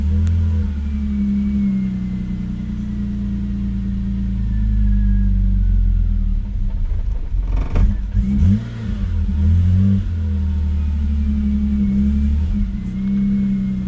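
A BMW E93 528i engine idles roughly, its low, uneven rumble steady throughout with a brief louder surge and unsteady revs near the middle; no one speaks.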